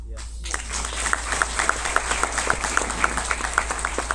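Audience applause at a motivational talk, a steady roughly even patter of many hands clapping with regular sharper claps standing out, continuous and fairly loud throughout.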